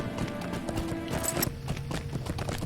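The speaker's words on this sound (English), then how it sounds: "I'm just going to grab a horse" Horse hooves clip-clop in a quick, steady rhythm in the Lord of the Rings Online video game, layered over game music and ambience.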